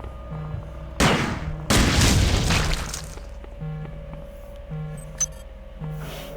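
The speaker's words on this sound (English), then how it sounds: "I think I shot my gun without" Gunfire in the video game System Shock 2: two loud broadband blasts close together around one second in, over steady game ambience and repeating electronic tones.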